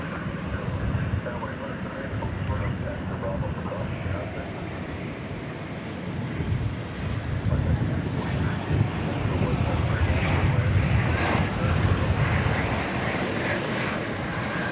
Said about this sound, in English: The American Airlines flight coming in from Omaha, Nebraska.